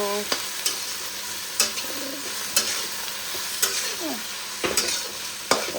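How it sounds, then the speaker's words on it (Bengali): Onions fry in a hot pan for chicken korma, a constant sizzle broken by repeated scraping stirs every second or so, with a faint bird calling in the background. "ভালো করে ভাজা ভাজা করতে হবে"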